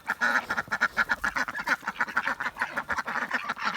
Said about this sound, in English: I hear a lot of ducky commotion